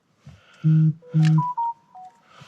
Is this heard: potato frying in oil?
no